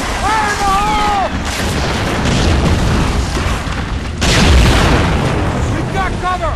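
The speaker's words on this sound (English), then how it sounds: "All right, Jones, let's blow this fence! Fire in the hole!" Explosion blowing up a fence in the Medal of Honor video game, a loud boom amid a continuous battlefield din of gunfire and shouting voices, with a second heavy blast rising near the end.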